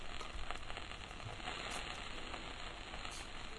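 Cooking sizzle in the video game Rusty Lake Hotel, a steady hissing frying texture that holds evenly throughout, soft and uniform with no distinct pops and no speech.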